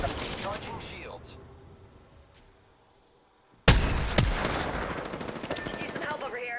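Bursts of rapid gunfire in a video game arena battle, fading to near silence before a sudden loud volley of shots and impacts resumes, with a voice heard early on.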